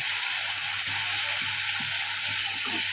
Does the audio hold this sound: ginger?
yes